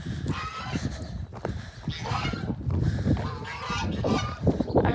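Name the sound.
geese honking on a farm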